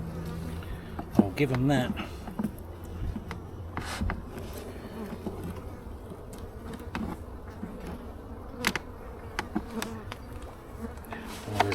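Bees buzz and hum around a hive, a low and fairly faint drone with brief louder passes of single insects. A person speaks softly at moments over the buzzing.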